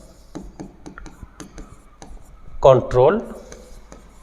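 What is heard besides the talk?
writing on board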